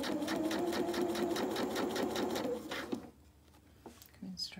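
Sewing machine stitching a seam on suit trousers, a rapid steady mechanical whir for about three seconds before stopping, followed by quiet handling noises of the fabric.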